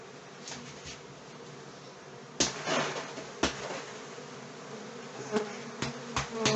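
Honey bees flying around inside an apartment during an early spring hive inspection, giving a steady close buzz throughout, with several louder passes and bumps near the listener in the second half.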